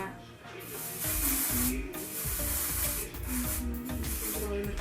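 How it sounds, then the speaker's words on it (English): Spray hisses onto the lace of a wig in several quick, close bursts, with short gaps and light rubbing between them and no speech. "you still want to spray some there on that lace. Again, I'm going to take the same, spray it down."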